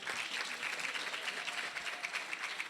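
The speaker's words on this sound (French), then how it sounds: "Vous pouvez vous applaudir" A crowd applauds women community relay workers, a steady dense clatter of clapping hands filling the room for a few seconds.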